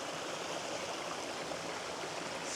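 A small mountain stream with waterfalls on Plešivec in Slovenia rushes and burbles steadily, a continuous near wash of flowing water with no voices.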